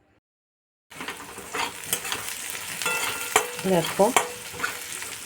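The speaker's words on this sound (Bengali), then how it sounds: "আমি কষাচ্ছি কাশ্মীরি মির্চ, হলুদ আর নুন দিয়ে" Kashmiri chilli, turmeric and salt sizzle in hot oil as a spoon stirs them, following near-silence, with clinks of metal against the pan and a brief word spoken.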